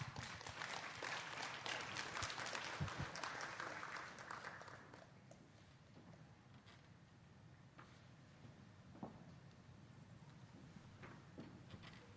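An audience at a diplomatic forum's opening ceremony gives a warm welcome as a foreign minister comes up to speak. Dense, steady applause fades after about four seconds into faint scattered claps and room noise.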